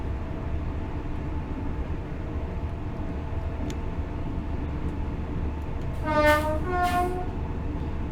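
A train runs the East Coast Main Line between Peterborough and Doncaster in the Train Sim World video game: a steady rumble of wheels on track, then two loud horn blasts near the end.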